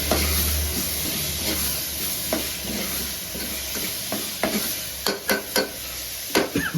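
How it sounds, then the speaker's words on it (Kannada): Tomato frying with salt in a pan for dal khichdi, a steady close sizzle with soft spatula scrapes that turn into several sharper clacks near the end, no talk. "ಉಪ್ಪು ಹಾಕೊಂಡು ಏನಾಗುತ್ತೆ ಬೇಗ ಫ್ರೈ ಆಗುತ್ತೆ ಟೊಮೆಟೊ ಅಲ್ಲ ಟೊಮೆಟೊ ಹಾಕಿದ್ದೀನಿ"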